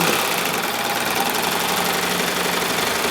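A Baby Lock Evolution serger stitching stretchy, silky lycra runs as a fast, steady mechanical whir with a continuous buzzing rattle, close and even throughout with no talking.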